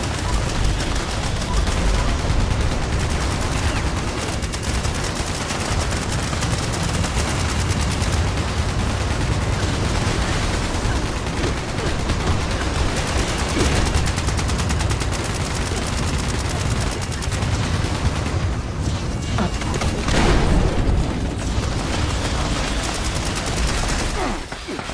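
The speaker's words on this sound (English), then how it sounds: "It is with artillery." Sustained artillery and gunfire in the Fallout 76 video game, a dense, continuous barrage of shots and blasts running loud and unbroken throughout, with occasional heavier booms standing out from the din.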